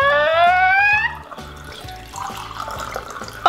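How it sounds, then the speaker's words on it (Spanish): Water poured into a row of drinking glasses, a stream with a quickly rising ringing pitch as one glass fills, followed by softer splashes and trickles as more are topped up, close and clear with no talking. "Tenemos que llenar todos los vasos con un poquito de agua."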